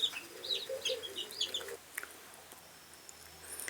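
A brooding kienyeji hen clucks in a series of short, moderately close calls, then the clucking falls away to quiet farmyard background with faint chirps.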